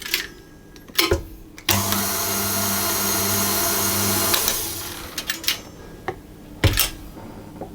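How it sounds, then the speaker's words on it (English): A stand mixer with a dough hook churns bread dough for Czech Christmas bread, a steady whirring motor for about three seconds between scattered knocks and clatter of the bowl, with no talking. "I'm going to put the dough hook back in and just give that a little mix around"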